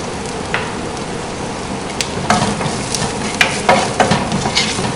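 Onions frying in a pan with smoked herring, Trini style, a steady close sizzle with scattered sharp crackles and spatters growing busier toward the end, no voices.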